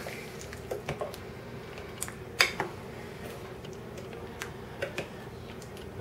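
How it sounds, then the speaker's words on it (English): Thickened beef stew being stirred in a pot gives soft wet squishes and light clicks of a utensil against the pot, scattered irregularly over a low steady background. "Give it a little stir."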